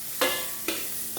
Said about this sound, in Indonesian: Inilah Ahli Yusuf lagi demonstrasi nasi goreng di IBK.